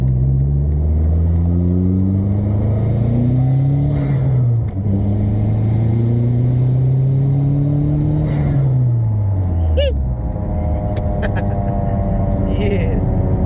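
Dodge SRT4 fitted with Braum seats being driven, engine rising and falling through repeated revving accelerations and gear changes, loud and close from inside the cabin, with someone talking over it.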